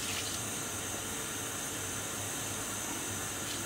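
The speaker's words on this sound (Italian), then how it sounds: "tre bicchierini di caffè di acqua allo zafferano e metteremo qui nel sugo" Saffron water is poured steadily into a pan of sauce for linguine with mussels and brandy, giving a soft, continuous trickle and hiss at low level.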